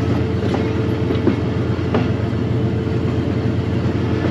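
A General Electric 2200 horsepower diesel locomotive hauls a train between Lahore and Rawalpindi, its steady engine drone and rumble running throughout with a few faint rail clicks, heard close from on board.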